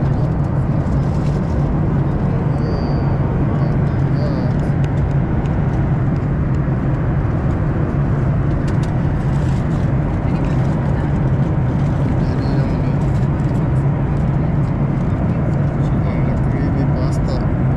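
Airplane cabin noise during a flight, a constant loud low roar of engines and airflow filling the whole stretch, steady and unbroken, with faint occasional clinks over it.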